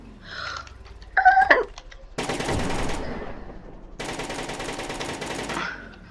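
An auto cannon in a zombie destroyer build video game fires in two sustained bursts of rapid shots, loud and close, after a few short mechanical clanks and a whirring tone.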